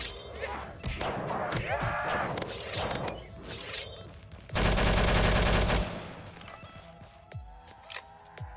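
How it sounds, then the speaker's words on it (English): Gunfire crackles in Roblox Zombie Survival Tycoon amid busy game effects, a rapid burst of shots peaking loudly in the middle, with someone talking excitedly over the action. "Is this dude shooting at me?"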